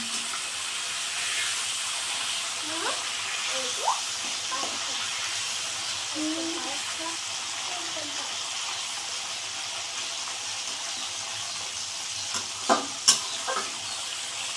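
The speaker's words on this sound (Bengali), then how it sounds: "মাছটা এপিট পিট করে এই মশলার সাথে হালকা ভেজে নিলাম" Fish fries lightly with spices in a pan of black cumin seed curry, a steady close sizzle and hiss running throughout, with a few sharp clinks near the end.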